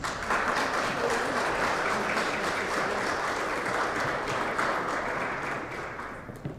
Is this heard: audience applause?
yes